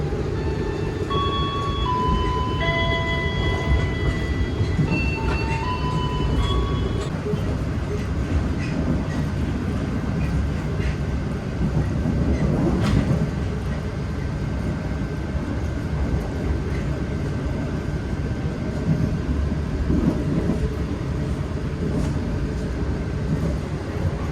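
A train rumbles steadily into Wlingi station in Indonesia, with a chiming melody of electronic tones at the start and a continuous low rolling noise throughout.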